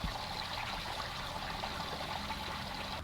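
Water runs steadily through a drainage pipe on a homestead, a quiet, continuous trickling rush with no breaks and no voices.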